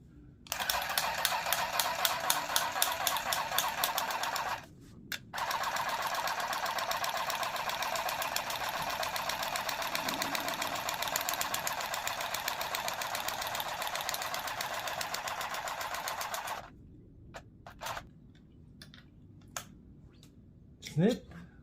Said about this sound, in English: Grab some material under the needle and start stitching.